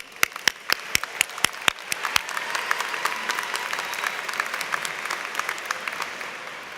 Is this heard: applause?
yes